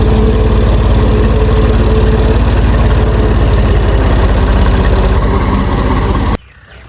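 A tractor engine runs at a steady, loud, close idle with a low rhythmic throb, cutting off abruptly near the end; no talk.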